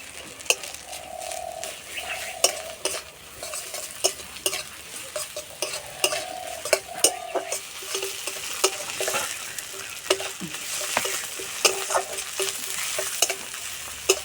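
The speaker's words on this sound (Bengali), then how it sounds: "এবার দেবো আদা রসুন বাটা" Ginger garlic paste sizzles in a pan with fried onions while a utensil stirs it, steady frying hiss broken by repeated scraping clicks, close and continuous without speech.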